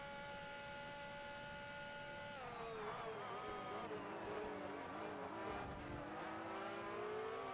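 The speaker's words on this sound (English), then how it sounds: "Bloody hell, these cars are loud." Race car engines roaring in the Forza Motorsport video game, European R-P1 open class, a loud sustained high-pitched whine that holds steady then drops and wavers as the cars shift and pass, with no talk over it.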